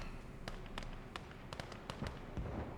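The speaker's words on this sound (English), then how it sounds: "you can hear he has anti-tank guns" Gun reports from anti-tank guns in the WWII strategy game Gates of Hell Ostfront, set on a frozen winter map, come as sharp separate cracks spaced a fraction of a second apart and rising over a steady low battle rumble.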